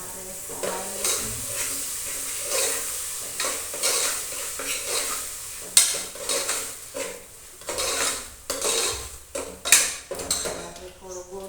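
A spoon stirs chutney in a cooking pot after oil has been added, giving irregular scraping strokes and knocks against the pot over a soft sizzle.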